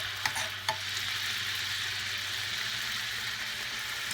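Shrimp sizzle steadily in a pan of garlic and butter. The frying hiss is close and continuous, with a couple of sharp clicks near the start.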